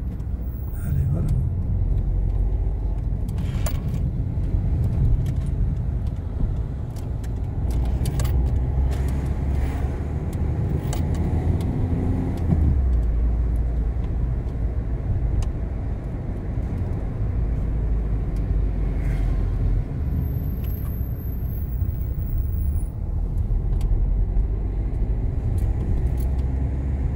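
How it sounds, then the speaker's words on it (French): A car drives past during a French town's honour lap, with steady low engine rumble under continuous chatter from people nearby. "elle est passée où la voiture?"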